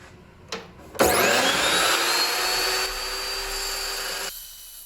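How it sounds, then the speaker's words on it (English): A cold cut chop saw slices through crusty, rusty 1-inch mild steel tube, a loud sustained whining grind that starts abruptly after a brief knock, holds steady for about three seconds, then stops. "I like that this saw leaves pretty clean cuts in mild steel."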